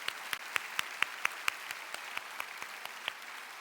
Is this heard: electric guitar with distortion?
no